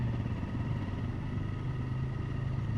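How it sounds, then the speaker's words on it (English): A noisy motorbike engine on a street tour through St Ives, droning steadily and close by as a low, continuous hum with no pauses and no talk. "I can't complain because I'm a noisy motorbike."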